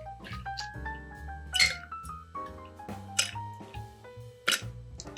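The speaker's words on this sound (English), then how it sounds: "we're going to put our ice into a cocktail shaker" Ice cubes dropped into a cocktail shaker, giving a few sharp, bright clinks over steady background music.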